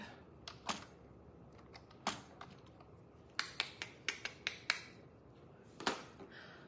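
Buttons pressed one after another to type in a code: crisp, close clicks, single at first, then a quick run of six or seven taps, then a final pair.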